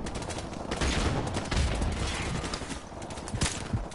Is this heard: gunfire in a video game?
yes